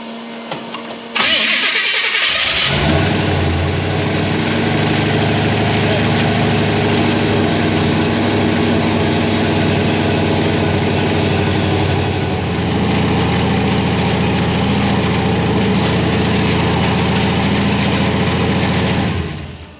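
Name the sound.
supercharged Chevrolet C10 truck engine starting and idling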